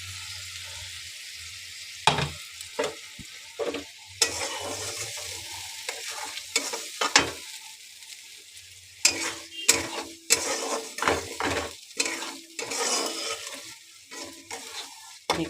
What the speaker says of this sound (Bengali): আলু মাছ ভাজা কমপ্লিট।